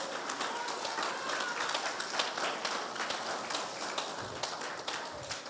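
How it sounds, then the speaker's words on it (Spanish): A church congregation gives God an offering of loud clapping during a Spanish-language sermon, a dense, steady wash of many hands that sounds fairly distant and soft throughout. "Podemos darle una ofrenda de palmas a Dios fuerte."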